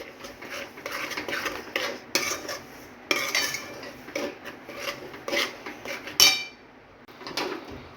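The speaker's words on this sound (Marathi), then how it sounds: "आता आपण हा पाक जो आहे ना तो आपण भाजून घेतलेला रव्यामध्ये घालून घेऊया आता हे छान मिक्स करून घ्यायचं" Sugar syrup being stirred into roasted semolina in a pan while making rava barfi, a spoon scraping and clinking against the metal in irregular strokes, fairly close, with one sharper clatter near the end.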